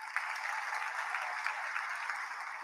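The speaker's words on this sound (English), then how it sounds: "Let's give everybody a round of applause for those" Steady applause from a graduation audience at a high school commencement ceremony, a dense, even patter of many hands clapping throughout without pause.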